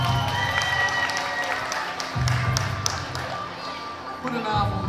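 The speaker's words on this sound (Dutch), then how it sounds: "Geef ze een hartelijk applaus." An audience applauds the presenters at a school cultural evening, a dense patter of clapping from a crowd indoors. Rhythmic thumping runs underneath, and voices can be heard amid the clapping.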